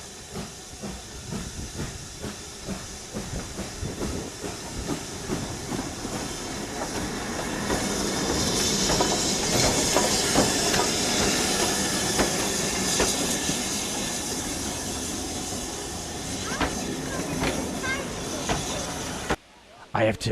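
A steam train passes with loud, continuous hissing steam and a rumbling, clattering run of wheels on rails that builds and swells in the middle before cutting off abruptly near the end.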